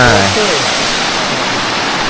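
Ko Luang waterfall in Li district, Lamphun, rushes in a loud, steady, close roar of falling water. A brief voice is heard at the very start.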